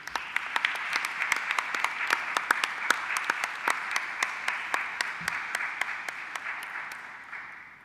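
Delegates at a regular meeting of the Inter-American Council for Integral Development applaud a nomination by acclamation, giving a steady round of dense clapping with sharp individual claps standing out. It runs throughout and fades slightly at the end.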